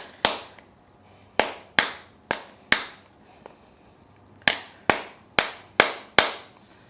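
A farrier drives horseshoe nails into a mule's thick hoof wall, producing about ten sharp, ringing hammer strikes in two bursts of roughly five evenly spaced blows, with a short quiet pause between them.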